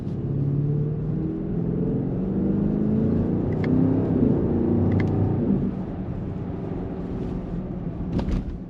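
Engine of a 2025 BMW XM SUV holds a low, steady rumble while accelerating in gear, heard from inside the cabin, easing slightly near the end with a few faint clicks.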